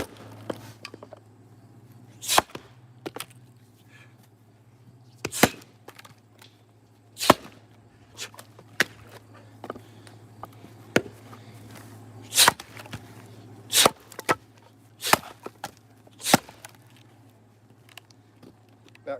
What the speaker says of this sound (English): That's where you really see if it's a good splitting axe or not, when you're in the tougher woods